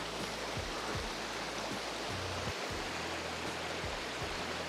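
Water of the Kamianka river spilling over a small waterfall, a steady close rushing wash that fills the whole stretch without any talk.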